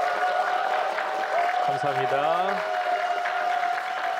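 Studio audience applauding a Korean environment minister at the close of a televised policy talk show, a steady clapping wash under a voice speaking briefly over it.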